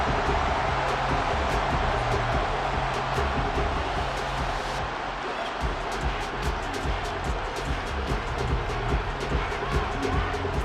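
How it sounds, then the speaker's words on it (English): Stadium crowd noise from the Madden 24 football video game, Titans versus Saints, a dense continuous roar of fans swelling late in the game, steady and loud with a commentator talking over it. "This crowd turning up the decibel level."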